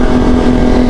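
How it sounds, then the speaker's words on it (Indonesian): Kawasaki ZX25R motorcycle fitted with an SC Project exhaust, giving a loud, steady engine drone with a strong low hum that holds evenly for the whole second. "yang dengerin suara motor kita itu kalau lewat gini"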